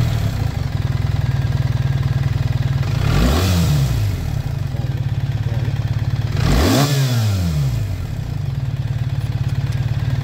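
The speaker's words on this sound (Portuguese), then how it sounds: "Daqui, este motor é divinal." A BMW R 1300 GS motorcycle engine idles steadily, then revs sharply twice, each blip rising and falling back to a close, loud idle with no talking.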